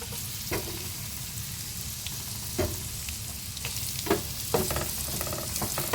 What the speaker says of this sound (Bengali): উচ্ছেগুলো এভাবে ভেজে নেব